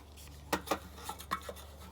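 A spray bottle misting a curly dog's coat during grooming, heard as a handful of faint, short, close spritzing puffs spread unevenly over a couple of seconds.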